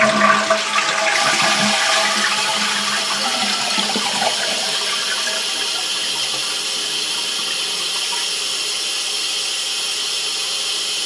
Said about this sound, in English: Flush the toilet so the tank will drain